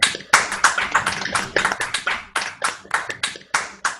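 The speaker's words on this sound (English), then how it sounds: "let's all give a big round of applause." An audience at a chorus event gives a round of applause, heard as a sparse, uneven run of distinct close hand claps rather than a dense crowd roar.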